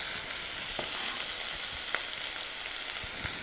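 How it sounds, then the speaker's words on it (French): Onions frying in a pan with a little salt and sugar over gentle heat to caramelise, giving a steady close sizzle with occasional soft stirring clicks and no talking. "Et là on met nos oignons."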